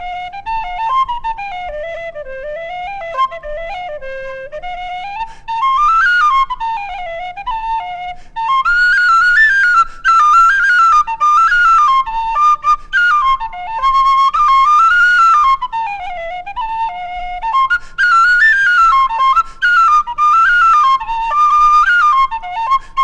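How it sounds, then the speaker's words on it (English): A tin whistle plays the lively traditional tune Flowers of Edinburgh, loud and close, running through quick ornamented melodic phrases alone without accompaniment. "Maybe you should try this on the whistle."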